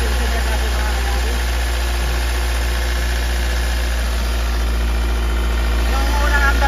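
Hyundai Starex 2013 engine idling smoothly after a valve lifter replacement, a steady close low hum and vibration with no ticking, continuous throughout.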